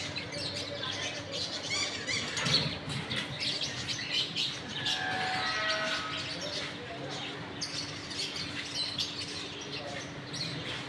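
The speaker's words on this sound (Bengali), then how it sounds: "সুন্দর পাখিগুলো ডাকতেছে সব" Morning birdsong from birds in green trees: a dense, steady wash of mixed chirps and calls fills the whole stretch, with no clear talking over it.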